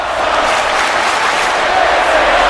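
Wrestling video game crowd from WWE 2K, a loud continuous roar of cheering and applause filling the whole moment without letup.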